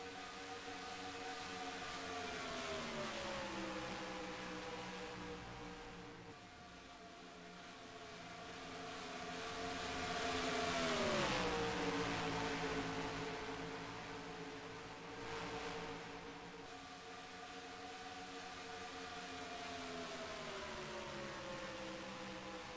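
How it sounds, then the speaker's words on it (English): Simulated NASCAR race car engines in NASCAR Racing 2003 at Michigan International Speedway, a steady droning whine that dips and rises in pitch as gears shift, moderately faint and heard alone. "You can hear the clutching, folks. You're going to hear the engine sounds go away."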